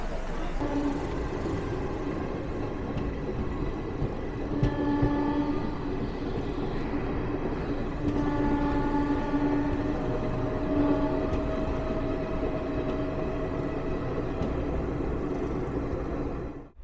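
A Kumbh special train (number 03021) runs from Kolkata, its loud, continuous rail rumble filling the whole stretch, with long sustained horn tones sounding around the middle before the noise cuts off abruptly at the end.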